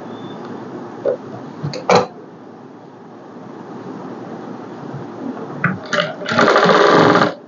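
A sewing machine stitches a folded hook strip on a blouse in short bursts, with scattered clicks and handling noises between them, ending in a louder, sustained run of rapid whirring stitches close to the microphone.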